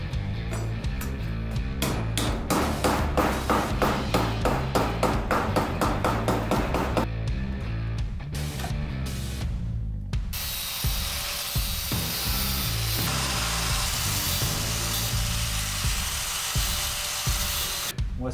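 Offcuts of 1 mm sheet steel are cut for sill repairs on a Peugeot 205. A power tool buzzes in rapid, rhythmic pulses, breaks off briefly, then settles into a loud, continuous high-pitched grinding whine, close up and with no speech.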